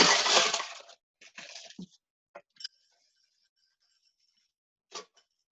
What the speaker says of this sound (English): So, you ice up your glass.